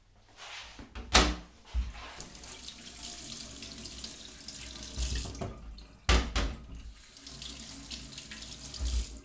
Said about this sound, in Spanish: ahora que hemos acabado de pelarlas, las volveremos a lavar